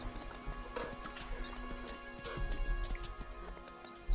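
Horse hooves clip-clop in a survival video game set in a lost kingdom, a steady run of close, crisp hoof strikes with a brief whinny-like call and game ambience underneath.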